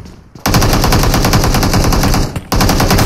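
Loud rapid automatic gunfire in PUBG on the Vekendi map during a final-circle fight, sounding as continuous close bursts with a brief break before firing resumes.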